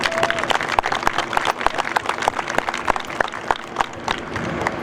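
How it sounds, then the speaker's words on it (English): Audience applause at a school prom event, dense irregular clapping spread across the whole stretch with a crowd murmur and some voices mixed in, fairly loud and steady. "let's give them a round of applause"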